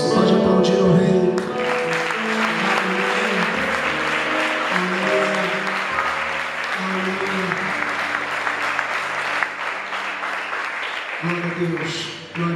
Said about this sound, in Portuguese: Você pode aplaudir o Rei.